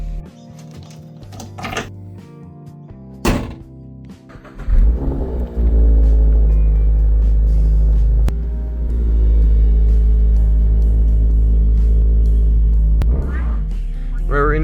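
A Subaru BRZ pulls away, a few clicks and clunks giving way to a loud, steady low engine drone and rumble that holds for several seconds, with a brief dip as it shifts.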